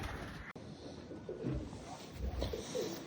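A medium-sized pigeon coos softly nearby, a few low, throaty coo phrases against a quiet background.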